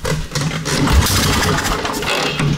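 A barn-find Harley racer motorcycle engine sputters and churns as it is being started, a rough, uneven mid-pitched rumble that never settles into a clean idle over a couple of seconds.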